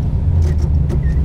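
A 1974 Corvette Stingray engine and exhaust rumble steadily at close range, a loud, low idle with no voices over it.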